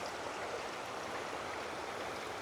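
Water of a forest stream at a campsite, held back by a barricade, runs in a steady, even rush that stays continuous and close with no voices over it.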